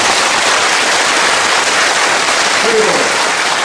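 A large audience gives loud, sustained applause for Korean War veterans, a dense, steady roar of clapping filling the hall, with a voice briefly speaking over it.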